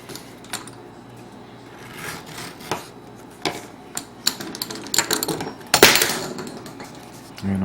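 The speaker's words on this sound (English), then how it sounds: "And I'm dropping my tools." Leatherworking hand tools, such as an edge beveler, clatter and knock as they are set down on a workbench, giving a series of scattered light clicks and taps that grow busier toward the end.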